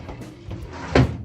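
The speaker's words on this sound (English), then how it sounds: "you get drawers that don't even open properly" A hotel room drawer is tugged open and jams, giving a short scraping rattle that ends in a loud wooden knock as it sticks partway.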